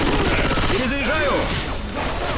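A sustained, loud barrage of automatic gunfire fills a modded shooter video game, with a voice talking over the shooting.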